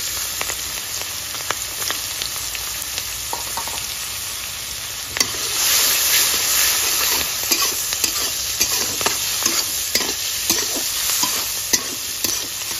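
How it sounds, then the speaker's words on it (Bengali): Onions sizzle steadily in hot oil, with occasional stirring scrapes and crackles, and no talking. "পেঁয়াজ হালকা ভাজা হয়ে গেছে, বেশি ভাজবো না।"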